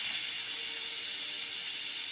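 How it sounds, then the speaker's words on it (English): Steam hisses steadily from a steamer pot of couscous, a constant bright, airy rush that keeps its level throughout. "Now we just wait for the couscous to steam."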